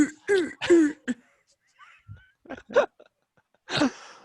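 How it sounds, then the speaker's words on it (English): Several short, harsh coughs come in a burst, followed by a few quieter coughs and throat noises after a pause, close by. "He's still coughing."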